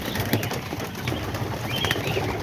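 Homing pigeons coo softly and continuously at close range in a loft, their low murmuring calls overlapping against a steady background hum.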